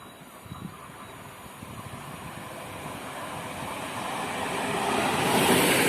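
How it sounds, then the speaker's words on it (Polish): Regio passenger train on the Szczecin Główny–Goleniów line pulling into a station, a broad rumbling rush that grows steadily louder as it nears. "wjeżdża pociąg Regio relacji Szczecin Główny Goleniów"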